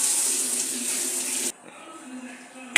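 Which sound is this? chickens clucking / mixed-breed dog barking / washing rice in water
washing rice in water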